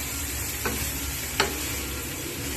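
Boiled potatoes and spiced vegetables stirred in a pan, with a low continuous sizzle and two brief utensil scrapes, close and fairly quiet.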